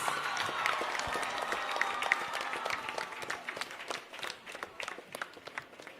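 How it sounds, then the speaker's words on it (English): Audience applause during a student interaction at a school, a crowd clapping steadily with scattered sharp claps that thin out toward the end, fairly distant. "Let's all give a big round of applause."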